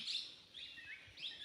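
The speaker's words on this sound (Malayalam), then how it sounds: "കേട്ടില്ലേ കിളികളുടെയൊക്കെ ചെറിയ ചെറിയ കിളികളുടെ സൗണ്ടാണത്" Small forest birds chirp in thin, high, repeated calls, faint and distant against a quiet background.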